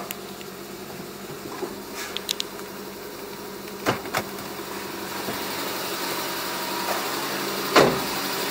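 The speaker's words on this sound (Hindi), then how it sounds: "ये देखिए हमारा इंजन फर्स्ट क्लास चालू हो गया है" A Tata Zest car engine idles after starting, a steady low hum close by with a few sharp clicks and taps, and no one talks.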